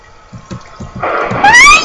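Water splashing in the Minecraft video game, a short liquid burst rising into a bright, bubbly rush that grows louder toward the end, heard up close with no talk over it.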